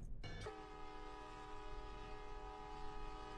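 A train sets off in the Minecraft Traincraft mod, pulling a single wagon: a sudden onset gives way to a steady, sustained horn-like tone with a rumbling undertone that holds at even loudness, with no talk.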